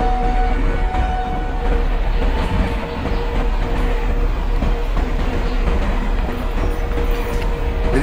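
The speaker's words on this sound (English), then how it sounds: "let's speed up the train" Passenger train with a WAP-7 electric locomotive accelerating in the MSTS train simulator, a loud, steady rolling rumble with rhythmic wheel clatter and a sustained motor whine throughout.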